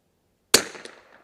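A single sharp crack from a Bergara B14R rifle fired at targets at a range, sudden after silence and trailing off in a short, decaying echo.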